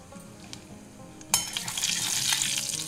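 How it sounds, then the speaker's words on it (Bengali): Nigella seeds (black cumin) dropped into hot oil left from frying fish: a quiet low sizzle, then a sudden sharp burst of hissing and crackling that stays loud and steady, close by, no talking. "এবারে আমি দিয়ে দেবো একটু কালো জিরা।"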